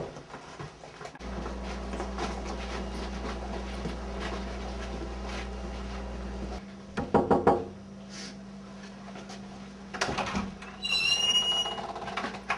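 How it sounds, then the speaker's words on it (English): Knocks at a house's front and back doors: a quick burst of loud raps near the middle, then another cluster of knocks a few seconds later, over a steady low hum, with a faint squeak toward the end. "Why are we knocking like that?"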